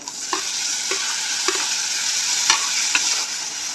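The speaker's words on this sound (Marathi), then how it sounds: "एक टोमॅटो बारीक चिरलेला होता तो टोमॅटो पण टाकून घेऊ" Chopped tomato tipped into a frying pan of spiced oil with turmeric and chili powder while cooking cluster-bean bhaji, then stirred: a steady sizzle with a few sharp spoon scrapes at irregular intervals, close and with no voices.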